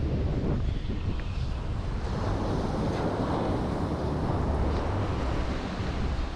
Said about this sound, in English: Walking the beach, nothing like walking the beach in Jamaica.